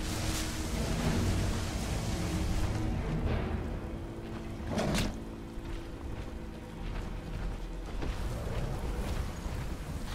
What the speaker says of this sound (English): Why am I getting lightning?